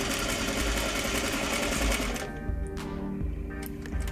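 A sewing machine stitches a trouser pleat in a steady, close, continuous whir, with the stitching rhythm shifting slightly near the end.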